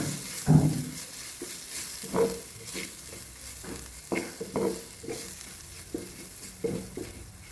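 Chicken gizzards fry in a pan of curry, a soft continuous sizzle broken by repeated scraping strokes of a spoon stirring, close and fairly quiet.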